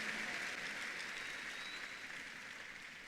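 Applause fills a church service, a dense steady clatter of many hands clapping that holds evenly for a few seconds and tapers only slightly, with no talk over it.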